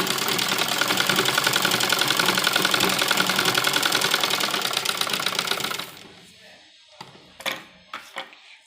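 A sewing machine runs steadily for about six seconds, stitching the buckram edge of a dupatta being made into a suit. It stops abruptly, and a few faint handling clicks follow.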